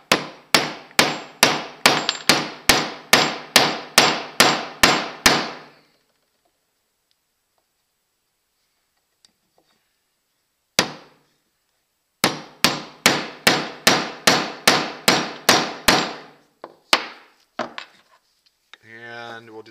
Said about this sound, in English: I'm going to take a hammer here and I'm going to purposely damage the threads here.